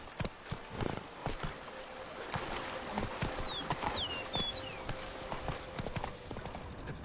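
Geralt's horse Roach clip-clops at a steady walk in The Witcher 3, the hoofbeats close and even, with faint bird-like chirps in the background.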